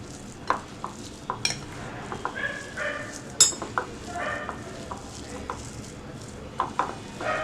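Banana blossom batter is mixed by hand in a bowl, giving soft, irregular squelches and occasional sharp clicks close by, with a quiet background.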